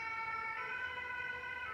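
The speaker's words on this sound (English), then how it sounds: "Those sirens sound different" Emergency vehicle sirens wailing continuously, a steady layered tone held over the whole short stretch with faint road noise beneath.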